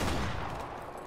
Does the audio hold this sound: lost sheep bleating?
no